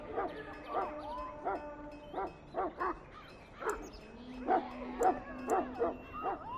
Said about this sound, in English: You're quite lucky to have your own Mabari warhound, you know.